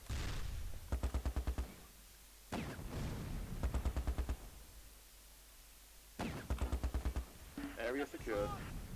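Short bursts of rattling gunfire in the strategy video game Close Combat, three separate volleys of rapid shots spaced a few seconds apart, with a voice speaking near the end.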